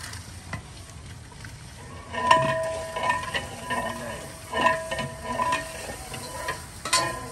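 Chicken frying with onions and garam masala in a large biryani deg, a steady soft sizzle with periodic louder scrapes and clanks of a ladle stirring against the metal pot.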